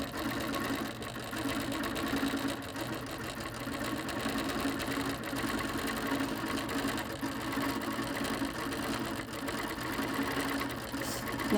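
A sewing machine runs steadily through quilting, its motor hum and fast stitching rattle holding at a constant moderate level throughout, with no pauses.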